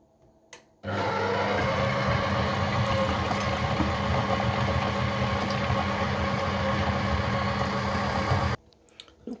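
A kitchen blender running at speed 3 to mix cucumber raita, starting abruptly and holding a loud, steady whirring drone for about eight seconds before cutting off.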